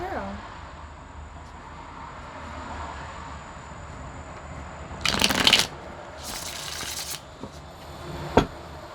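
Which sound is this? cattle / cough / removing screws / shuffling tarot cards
shuffling tarot cards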